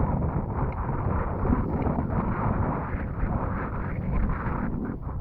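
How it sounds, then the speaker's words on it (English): Strong wind buffets an outdoor microphone, producing a continuous low rumbling roar with gusty surges throughout and no speech. "It's kind of windy"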